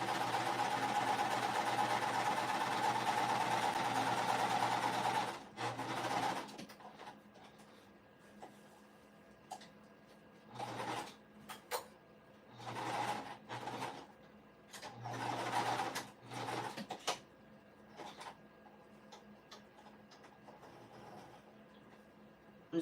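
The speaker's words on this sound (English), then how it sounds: "I'm probably gonna have to sew with them facing up so I can make sure that I'm catching everything in the seam" A sewing machine stitches fabric for pet bandanas, a steady loud run at first, then a series of shorter start-stop bursts of stitching with quiet gaps between them.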